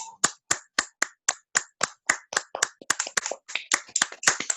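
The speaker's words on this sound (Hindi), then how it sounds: "अब मैं चाहूंगी कि हम सब जोरदार तालियों के साथ" An audience at a DXN ambassador event claps in sharp, separate beats, a loud, fairly regular run of claps close by with no talk over it.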